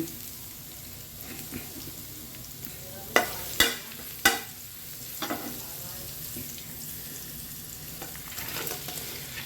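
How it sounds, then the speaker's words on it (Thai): Pork belly frying in a pan for a Thai basil stir-fry, a steady close hiss of sizzling oil with a few sharp clanks of utensil against the pan partway through. "ก็เลยมาทอดหมูสามชั้น"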